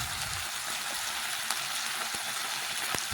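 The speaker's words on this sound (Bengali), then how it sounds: "হলুদ আর লঙ্কার গুঁড়ো মশলার সাথে একটু মিশিয়ে ভেজে নিচ্ছি।" Onion sizzles steadily in a pan with turmeric and chili powder stirred through it, a dense, even crackle with a few sharper pops, close and fairly loud with no talking.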